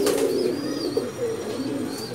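Low, rolling coos from big pigeons in a loft fill the space up close, joined by thin, faint whistling chirps from other birds in the background.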